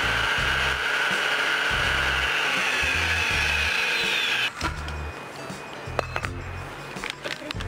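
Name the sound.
Fricomix multicooker chopping garlic and shallots on turbo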